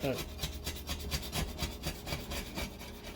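Residue is scraped off a glass stovetop with a scraper in quick, repeated rasping strokes, close and fairly loud, with no talk over it.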